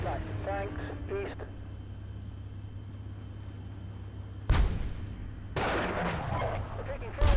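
A war simulation video game plays a steady low rumble of battle, then two sudden heavy blasts of tank or artillery fire ring out, with a crackle of distant gunfire early on.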